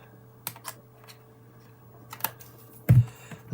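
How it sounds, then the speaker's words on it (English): A few crisp, quick snips of large scissors cutting paper, close and sparse, with a louder clipping sound near the end. "So I'm just snipping off"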